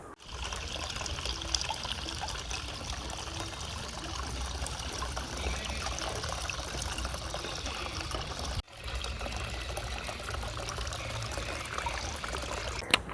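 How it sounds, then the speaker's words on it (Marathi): Water trickling and flowing steadily in a garden among coconut and areca palms at a beach house in Alibaug, a continuous close, even wash of liquid with no talk. "इकडून मस्त वॉटर फ्लो होतं."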